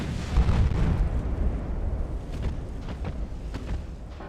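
Naval guns fire in the warship game Ultimate Admiral: Dreadnoughts, a heavy low boom opening the sequence followed by a rumbling, crackling barrage of distant shots and bursts.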